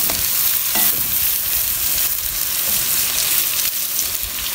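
Potatoes frying in hot oil until light brown give a loud, steady sizzle with stirring clatter, close up and continuous with no talk.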